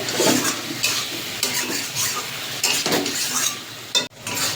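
Spices fried with ridge gourd and tomato in their own juices, no water added, a loud continuous sizzle with repeated stirring scrapes against the pan, cutting off abruptly near the end.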